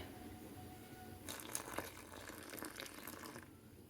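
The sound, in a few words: hot water being added to wheat flour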